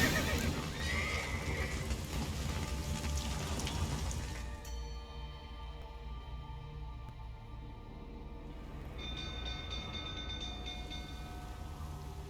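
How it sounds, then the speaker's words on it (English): Horses neigh in the video game The Witcher 3, a loud whinny over rumbling clip-clop and cart noise, then the scene drops to a quieter hum with soft tonal music. "The horses!"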